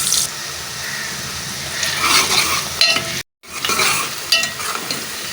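Onions sizzle in hot oil in a pan while a spoon stirs them steadily, with scraping and frying crackle running throughout and a brief pause near the middle; no one speaks.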